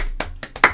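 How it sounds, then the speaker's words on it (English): A few scattered, uneven hand claps at a football podcast, sparse and close, as a small group gives a quick round of applause. "Round of applause for Ethan."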